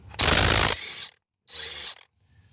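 A ratchet with a 19mm socket on a half-inch drive breaks loose a bolt on a 1997 Dodge Stratus 2.4L engine: a loud, dense burst of ratcheting clicks, then a shorter second run of clicks after a brief pause.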